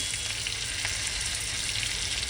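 Crushed garlic hits hot oil already seasoned with asafoetida, producing a dense, continuous, close-up sizzle that holds steady throughout with no voices.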